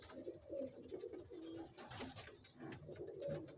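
A pigeon, a Parel breed, coos softly and repeatedly, its low throaty calls steady throughout and fairly close, with no talking.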